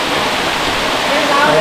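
The Gandhari Medaram waterfall gives off a steady, close, full-bodied rushing roar that fills the whole moment, with a faint voice briefly rising over it near the end.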